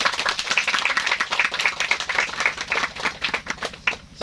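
Audience applause for the organizing committee of a first post-pandemic cadre training event, a dense, steady patter of many hands clapping close by, sustained throughout with no voices over it.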